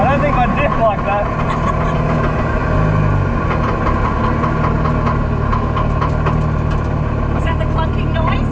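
A Nissan S13 Silvia's worn differential groans beneath a steady, loud engine drone, a continuous low mechanical moan persisting throughout without clear breaks.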